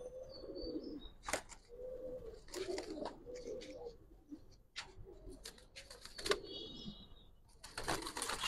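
Giribaz pigeons coo in soft repeated low rolls, several calls overlapping close by, interspersed with sharp clicks and knocks against a quiet background.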